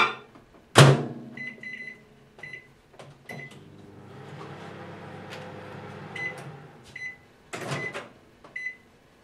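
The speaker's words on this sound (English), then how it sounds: "So I'll put that in the microwave." A microwave oven heats butter and milk for mashed potatoes: a loud door thump and button beeps, then a low steady hum with several short beeps, more clunks and a final beep.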